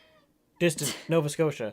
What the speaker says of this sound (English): Apologies for the cat, but cameo from my cat.